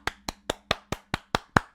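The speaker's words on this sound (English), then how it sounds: "Round of applause" A single person claps slowly and evenly, about eight sharp isolated claps close by, during a chat about fighting games.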